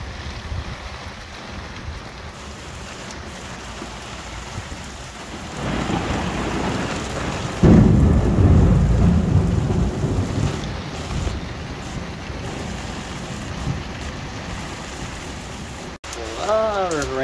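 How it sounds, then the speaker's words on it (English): Heavy summer rain pours steadily in New York, drumming on a roof and on fig trees, and thunder rumbles low partway through. A voice is heard briefly near the end. "Raining hard here in New York right now."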